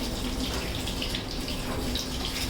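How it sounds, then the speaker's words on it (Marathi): Tap water runs steadily into a sink while a bottle is being washed, a continuous close hiss and splash with no pauses. "स्लो कर पाणी, स्लो कर, टॅप स्लो कर थोडा."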